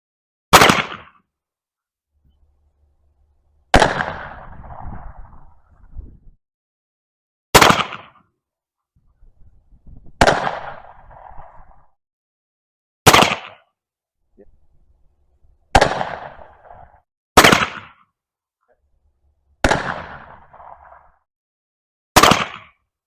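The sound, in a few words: five shots fired from an Uberti M1862 Colt Pocket Navy revolver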